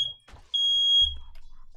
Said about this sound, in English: That's a fire alarm that is malfunctioning.